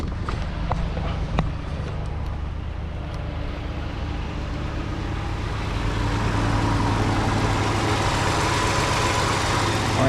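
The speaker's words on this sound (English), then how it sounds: "Our engine sounds amazing." A 207k-mile Toyota Highlander engine idles steadily after starting, a low even hum with light ticking, close and continuous, growing slightly fuller toward the end.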